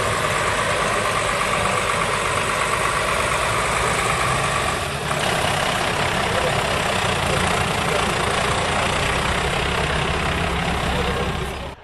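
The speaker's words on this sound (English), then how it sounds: "I must say that the Mercedes Unimog is the strongest off-road vehicle towing wood that I have ever seen" A Mercedes Unimog U1300 off-road truck towing wood runs with a loud, steady diesel drone and rumble, sustained close by for the whole stretch before easing off at the very end.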